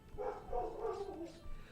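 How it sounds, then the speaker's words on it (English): A pet dog barks in a short, close, moderately loud run of yelps over about two seconds, while a video game plays at home. "there's my dog shouting"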